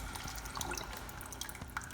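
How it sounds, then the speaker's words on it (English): Gelatinous homemade chicken stock pours steadily into a pot while cooking saffron rice pilaf, a continuous close splashing, trickling wash of liquid with a few brighter drips, moderately quiet and without talk. "It's nice and gelatinous, if you can hear it pouring."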